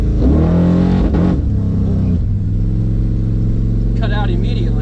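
A Caprice station wagon engine revs hard on a nitrous rip, loud and close, climbing in pitch and then dropping away, with someone talking over it and a second short rise near the end.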